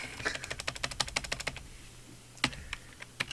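Quick bursts of keystrokes on a computer keyboard clatter close by in a rapid run, pause, then resume with a few spaced, heavier taps.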